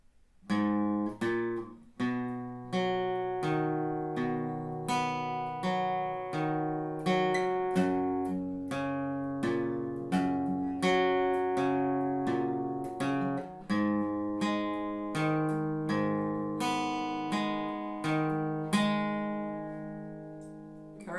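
A guitar slowly plays the chord progression of a song, each chord strummed or picked and left to ring before the next, unhurried and clear with no talking.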